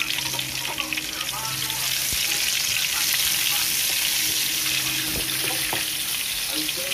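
Garlic and onion fry steadily in a pan for a beef mechado, a dense continuous sizzle with occasional stirring clinks and brief water-tap sounds mixed in, close and fairly loud throughout.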